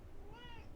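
A single short cat meow, faint and fairly distant over steady background noise, with no one talking.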